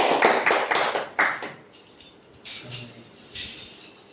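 Applause welcoming a speaker at a Sunday worship service: a burst of clapping in the first second and a half, then scattered fainter claps and rustle trailing off.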